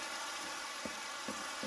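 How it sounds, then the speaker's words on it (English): Pumps chugging away in a Minecraft world modded with the Chinjifu mod, a steady mechanical hum with soft low thumps recurring every half second or so, alone without talk. "What you're hearing are the pumps chugging away"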